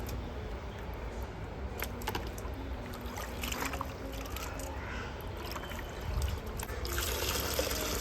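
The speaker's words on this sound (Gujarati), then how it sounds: "આ વેફરને આવી રીતે આપણે ચાલુ નળ નીચે મેં ટોપને મૂકી દીધો છે" Sliced potatoes for chips are rinsed in a pot under a running kitchen tap, giving a steady trickling stream with intermittent splashes and light clatter close by.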